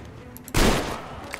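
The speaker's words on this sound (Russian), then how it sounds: "Откуда он стреляет?" Enemy gunfire in the video game Metro Exodus: a single loud, sharp gunshot bursting out of quiet background, trailing into a rumbling echo with faint scattered pops afterward, no talk.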